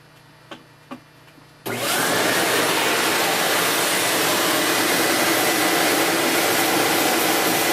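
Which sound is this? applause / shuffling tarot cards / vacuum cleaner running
vacuum cleaner running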